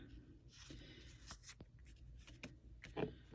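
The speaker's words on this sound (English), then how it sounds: "I like to use different shapes and different sizes, different types, and I just kind of tear them" Paper being torn into shapes of different sizes and types for a collage on a journal cover, heard as a string of short, close crackling rips and rustles, with one sharper tear near the end.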